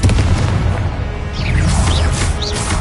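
A fiery Confringo blast spell cast in Hogwarts Legacy, giving a loud continuous rumbling boom with crackling bursts and swirling magical whooshes layered over a steady low roar.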